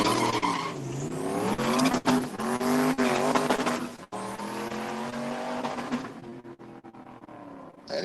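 A Chevy Camaro makes a drag racing pass, its engine roaring loud and close with rising gear-by-gear harmonics and a tire screech, then a shift break before it fades as the car pulls away down the strip.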